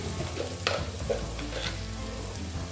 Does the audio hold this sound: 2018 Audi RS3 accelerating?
no